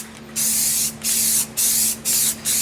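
A spray gun lays thin coats of paint onto a Triumph Spitfire 1500 car hood with sanded, rusty patches, in four loud hissing bursts separated by short pauses, close to the nozzle.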